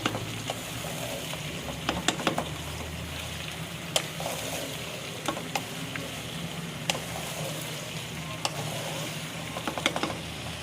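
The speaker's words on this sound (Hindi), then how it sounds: "ये तोरी को भी मैंने फ्राई कर लिया है उनके साथ और जीरे के साथ" Zucchini frying with cumin in a pan makes a steady, even hiss of hot oil, broken by occasional sharp pops and light taps.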